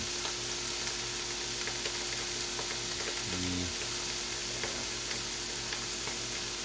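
Steak searing in a frying pan, a continuous close hiss of sizzling fat with faint ticking crackles and a brief low stirring shuffle midway.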